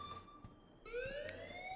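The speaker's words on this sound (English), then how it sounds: "please turn off that alarm since that's your job." An alarm in the video game Life is Strange, a faint electronic siren whose pitch sweeps and rises, with brief thumps and noises around it.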